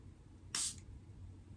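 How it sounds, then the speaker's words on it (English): One short spray of liquid fertilizer from a spray bottle, a single quick hiss lasting about a quarter second in a quiet room, close and fairly faint. "fertilizer, just one spray."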